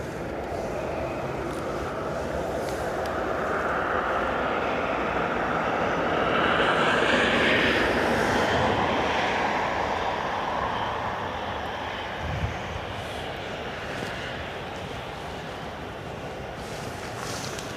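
Aer Lingus Airbus A320neo, four years old, arriving from London Heathrow at Dublin Airport: a steady broadband jet roar that swells around the middle and slowly fades, heard from a distance with no talk.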